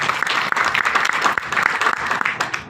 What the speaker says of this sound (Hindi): तो एक बार जोरदार ताली हमारे इस प्रोजेक्ट के लिए।